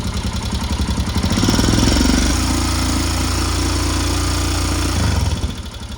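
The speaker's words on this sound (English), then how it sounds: "It sounds rattly as hell, but it is a rattly engine." A Royal Enfield Himalayan motorcycle engine idles close by with a loud, rattly, ticking clatter and a steady low throb, running alone without speech.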